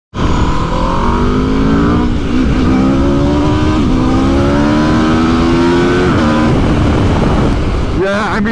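A 2021 Aprilia RSV4 Factory sportbike roars loudly on the road, the engine tone climbing steadily through the gears with brief dips between shifts over constant wind rush.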